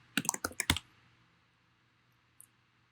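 Quick burst of computer keyboard typing while entering CSS code: about half a dozen sharp, close clicks in the first second, then near silence with one faint click later.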